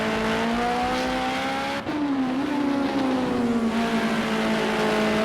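Racing engines howl in the Project Cars 2 video game at Laguna Seca, with one loud car revving high, cutting out briefly at a shift and then climbing again, while other cars drone alongside.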